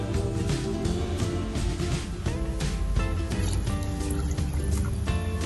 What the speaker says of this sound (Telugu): 2 గ్లాసులు వాటర్ యాడ్ చేసుకుంటున్నాను